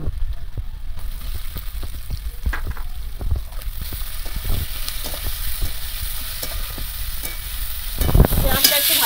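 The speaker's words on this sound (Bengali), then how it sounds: "পেঁয়াজটা একটু ভাজা ভাজা করে নেব।" Chopped onion fries in a pan for a Bengali chicken curry with whole cumin, bay leaves and crushed garlic, sizzling steadily up close while a spoon scrapes and stirs in irregular strokes, and the frying turns louder near the end.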